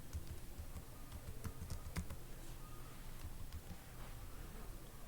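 Fingers typing an email address and password on a computer keyboard in a steady stream of soft clicks, with a low background hum and no talking.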